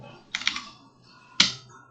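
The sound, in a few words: pressing the Enter key on a computer keyboard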